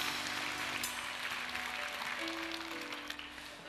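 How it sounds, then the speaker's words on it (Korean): Dense, steady applause from a church congregation fills the whole stretch, broad and continuous with no voices standing out. "영광의 박수를 한 번 더 올려드리겠습니다."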